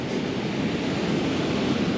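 Steady, full-bodied roar of sea surf breaking on a Lazarevskoye shore the day after a severe storm, a continuous close wash of churning water with wind noise and no pauses.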